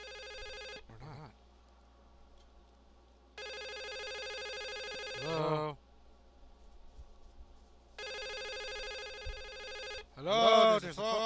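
Telephone rings in a dark, tense game scene: two long electronic ring bursts separated by a pause, each followed by a spoken reply, then a third ring cut off as a voice answers.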